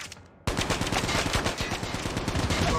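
Rapid automatic gunfire in the Call of Duty Mobile video game bursts in after a quiet moment, a fast continuous rattle of shots that stays loud and close throughout.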